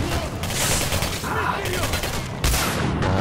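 Rapid gunfire from a weapon in the shooter game Singularity, repeated bursts of shots under someone talking, with a loud burst near the end.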